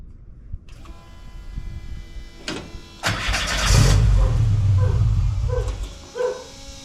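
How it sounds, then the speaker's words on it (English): A car with a VW ABA 2.0 engine run on Megasquirt cranks and starts close by, then settles into a loud, steady idle on a hot day in Tucson, Arizona. "You have to keep it idling."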